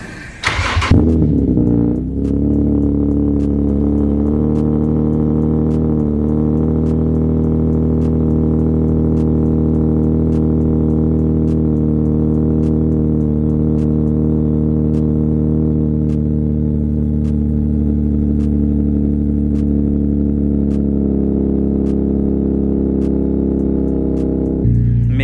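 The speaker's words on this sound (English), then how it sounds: "I'm gonna give you guys a little cool start" A car engine cranks and fires up, briefly revs, then settles into a loud, steady idle hum that continues for a long stretch, with no talking.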